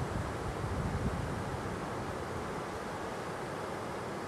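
Gadhadi (Kode) waterfall at Gaganbawada near Kolhapur, heard from above its top: a steady, dense roar of falling water, loud and unbroken throughout, with no voices.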